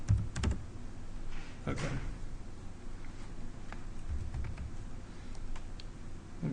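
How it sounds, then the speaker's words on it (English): Quick, irregular bursts of typing on a computer keyboard, close and fairly quiet, with a single brief spoken word partway through. "so if I can type right"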